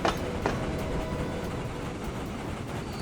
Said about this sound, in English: These trains are still running.